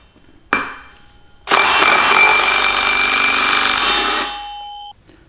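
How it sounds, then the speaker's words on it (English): Electric impact wrench on a brake rotor bolt of a 2019 Honda Monkey, one sharp knock followed by a loud continuous hammering rattle of nearly three seconds, then a ringing tone fading out. "Let me try an electric impact wrench."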